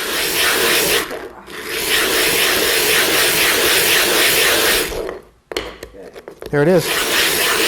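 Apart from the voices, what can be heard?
grinding a sharpening stone flat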